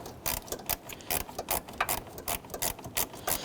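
Ratchet clicks ring out close by as bolts on a fog light of a 2006-2010 Hummer H3 get snugged down, plastic against plastic, in a steady run of short bursts of pawl clicking with brief pauses between strokes.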